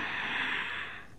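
A single deep yoga inhalation drawn in through the nose, a close, soft airy rush lasting about a second and fading at the end, with no talking.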